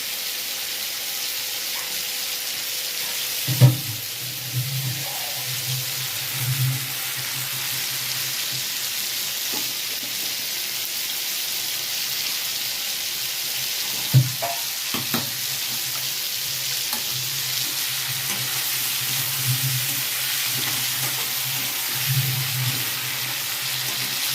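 Fish and prawns frying in a pan give a steady, close sizzle that stays even throughout, with a couple of sharp utensil clinks. There is no talking.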